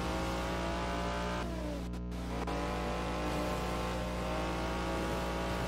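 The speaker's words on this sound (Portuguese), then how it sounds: "Esse é um carro de corrida com 90 anos de idade" A 90-year-old race car's engine drones steadily in the Forza Horizon 4 video game, a loud, dense, constant roar with a brief dip in pitch and load partway through.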